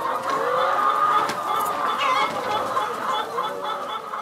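Laying hens on a poultry farm in Burkina Faso, a dense chorus of clucking from many birds close by, steady throughout with no talk.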